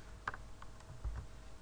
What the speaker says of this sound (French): Donc je vais taper gedit